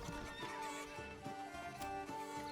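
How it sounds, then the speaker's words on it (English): A horse arriving with a rider in the medieval city-building game Manor Lords: faint whinnies and neighs over soft hoof clip-clops, set against a gentle tonal game music bed. "Could have another horse arriving at some point soon."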